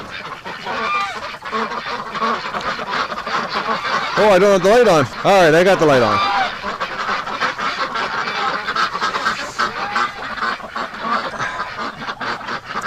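Loud honking and quacking from ducks and geese close by, with a burst of repeated honks in the middle, while a person talks over the birds.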